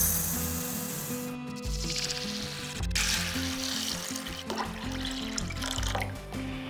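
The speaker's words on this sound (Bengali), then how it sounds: "এরপর ডালটাকে কয়েকবার জল পাল্টে পাল্টে ভালো করে ধুয়ে নেব।" Red lentils (masoor dal) are rinsed in water in a home kitchen, with steady sloshing and splashing across the clip under continuous background music.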